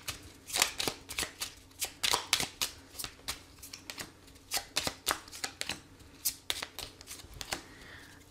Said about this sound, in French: on va prendre 3 cartes et voir ce qu'il vous dit.